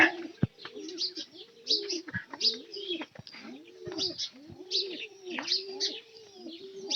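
Pet pigeons at a home loft coo close by in repeated rolling, rhythmic phrases, with a few faint chirps and a sharp knock between the calls.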